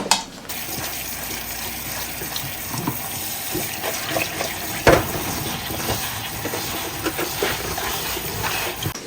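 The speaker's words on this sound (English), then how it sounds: "I'm going to take these potatoes on over to the kitchen sink, and we're going to rinse them off" Potatoes being rinsed under a running kitchen sink tap, a continuous close splashing water stream with a few knocks and clatters, including a sharp bump near the middle, and no voices.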